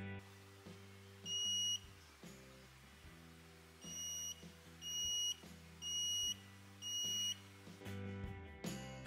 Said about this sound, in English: The active buzzer has a little oscillating source inside that gets electrified and makes sound.